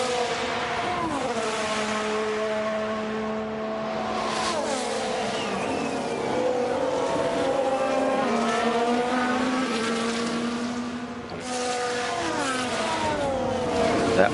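Formula 1 race car engines from the F1 Manager 22 racing game at the Netherlands circuit during a Q2 qualifying push lap, a continuous high-pitched wail with rising and falling revs through gear changes and corners, loud and steady throughout.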